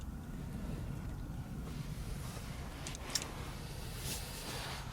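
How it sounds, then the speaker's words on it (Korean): Steady wind rushes past an open microphone at a reservoir fishing spot, a broad continuous roar with a few faint brief clicks over it and no talk. "바람이 자는 듯 하더니만 또 불어요"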